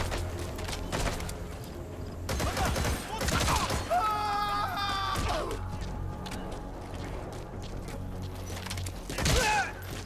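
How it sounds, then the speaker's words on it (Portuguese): Gunfire from an enemy shooting in the video game Metal Gear Solid V, a series of sharp cracks and impacts scattered through dense game noise, mid-level in loudness, with a voice speaking at times. "Tem um filho da puta lá em cima atirando em mim."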